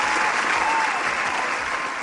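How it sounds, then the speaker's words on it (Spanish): Brief, loud burst of dense audience clapping welcoming a Paraguayan artist onto a live entertainment show, steady and crowd-wide throughout. "Fuerte el aplauso, por favor, para Elías GLZ"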